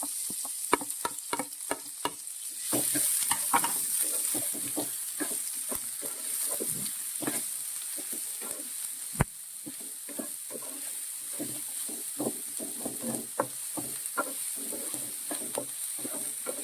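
Sliced onions frying in hot oil in a pan for prawn biryani, a steady sizzle and hiss throughout with frequent scraping stirs and occasional clacks of a spoon, close up.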